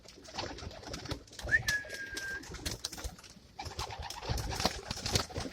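A single soft pigeon coo rises briefly over a busy background of rustling and faint clatter in a bird loft, with no talk.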